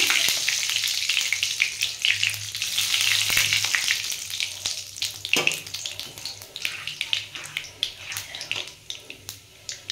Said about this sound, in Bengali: আমার তেলটা গরম হয়ে গেছে। আমি এর মধ্যে হাতে ঘষে কালো জিরে দিয়ে দিলাম।